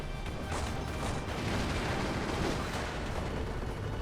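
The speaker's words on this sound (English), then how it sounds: "Over on the left, looks like some grenades are going off." Grenades explode in the World War II strategy game Company of Heroes, a dense, continuous roar of blasts and battle rumble with no clear gaps.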